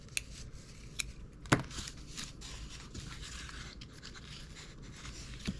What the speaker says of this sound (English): So we're just going to cut these.